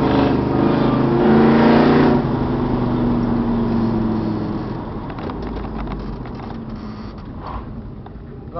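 A 1967 Dodge Dart drag car with a 383 stroker engine driving through town, its loud engine note rumbling steadily and then easing off as it cruises, close by with no talk.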